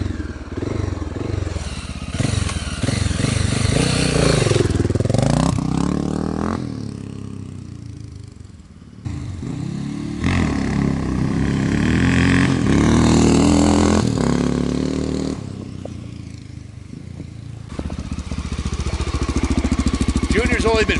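A 1986 Honda XR600R four-stroke motorcycle ridden around a compound, its loud engine rising and falling as it revs, passes near, fades briefly, then returns, with clattering in between.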